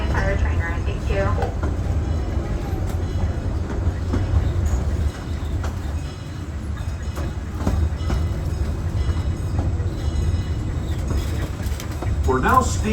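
Disneyland Railroad sweeper train rolls along its track with a steady low rumble and faint rhythmic clicking of wheels on rail joints, heard from on board throughout.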